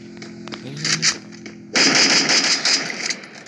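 The new AN94 gun fires in the Free Fire video game, with a short burst of loud, close gunshots that carry on for a couple of seconds after a brief quieter stretch.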